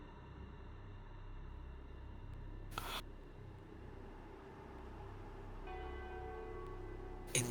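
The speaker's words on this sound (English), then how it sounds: "tolling of bells." Distant church-like bells toll over a steady low rumble as game-session ambience for a Warhammer 40k tabletop role-play, faint ringing tones layered into a continuous drone with a couple of sharp bursts.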